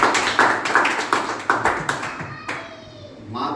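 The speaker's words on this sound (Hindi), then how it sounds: "माता पिता और उस बच्चे के लिए ताली बजाइए" Scattered hand clapping from an audience at a village library opening event, a quick run of separate claps that thins out and stops after a few seconds.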